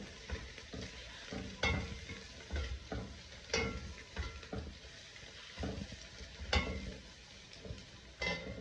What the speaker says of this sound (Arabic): اضيف عندي اللومي اللي انا طاحنته ويا الثوم وحمسه كله سوا